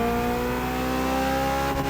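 A BMW Z sports car in the racing game The Crew Motorfest, its engine holding a loud, steady high-revving drone throughout with no one talking.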